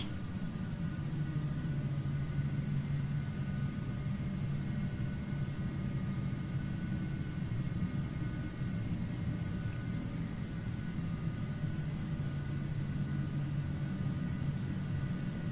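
A Carenado Hawker 850XP business jet in the FSX flight simulator taxis at West Sale, with a continuous steady engine drone and whine at an even level throughout, with no talk.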